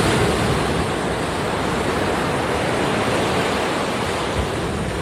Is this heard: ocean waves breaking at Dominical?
yes